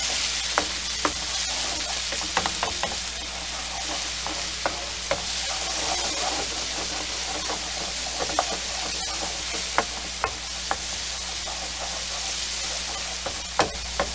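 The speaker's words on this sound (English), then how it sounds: "Garlic in there. And again, we're not giving any color to this. Just mix it all in." Garlic being stirred in a hot pan as part of a grilled rum shrimp and bell pepper salad: steady broadband sizzle throughout, with sharp utensil scrapes and taps scattered across it, close and alone without talk.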